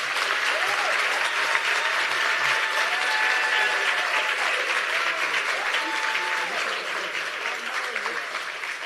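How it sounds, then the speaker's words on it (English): Sustained applause from a crowd at a conference closing ceremony, dense clapping that holds steady throughout and tapers slightly near the end. "A huge applause to Commissioner Doris."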